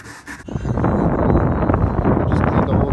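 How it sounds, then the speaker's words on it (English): Blower clearing debris off a sunroom roof deck, a loud, steady rushing roar that starts abruptly after a short quiet moment and continues close to the microphone. "You're gonna blow it using a blower."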